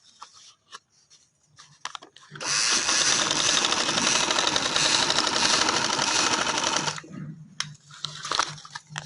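A sewing machine runs in one long, loud, steady burst of about four seconds while stitching a mesh panel onto trouser fabric, with faint handling clicks and rustles before and after.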